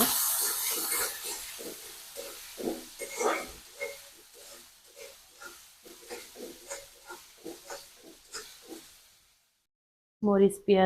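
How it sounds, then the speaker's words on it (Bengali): Onion, green chili and garlic drop into hot oil, sending up a loud, bright sizzle that then settles into a steady softer frying hiss while someone talks over it. "তেলটা গরম হয়ে গেছে এবার দিয়ে দেব পেঁয়াজ কাঁচামরিচ আর রসুন"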